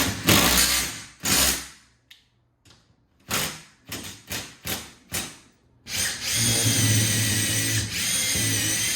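A power drill pre-drills holes into a wall stud while a performance rack is installed: a long whirring burst, then a quick series of short trigger pulses, then a sustained high spin, loud and close.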